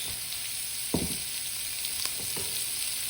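Onions sizzle in a hot pan alongside browning pork loin, a steady close frying hiss broken by a few soft stirring scrapes, with no voices.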